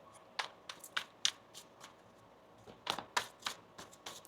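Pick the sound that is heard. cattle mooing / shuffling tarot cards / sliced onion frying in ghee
shuffling tarot cards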